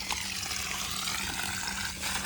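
Steady rushing water flowing continuously from an irrigation pipe on an onion and tomato field, a broad even wash of noise with a low hum underneath, close and moderately loud throughout.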